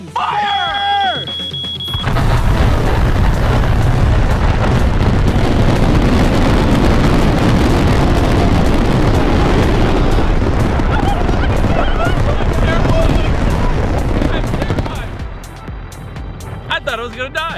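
A huge $40,000 fireworks show with over 9,000 shells goes off in a continuous roaring barrage of booms and crackles for about thirteen seconds. Excited voices sound over the blasts before the noise drops away.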